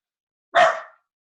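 One short, sharp dog bark rings out close by in an otherwise silent room, fading quickly.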